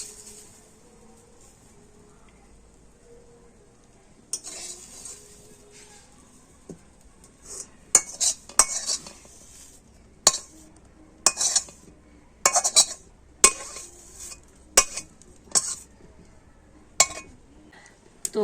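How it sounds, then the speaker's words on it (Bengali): A spoon stirs fried carrot into batter in a metal bowl, giving a series of sharp clinks and scrapes in irregular bursts, close and fairly loud, after several quiet seconds. "তো গাজরটা দিয়ে ব্যাটারটাকে আবার আমি খুব ভালো করে মিশিয়ে নেব।"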